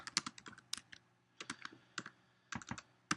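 Clicky keystrokes on a computer keyboard come in quick clustered bursts with short pauses between them, close and quiet, with no one talking.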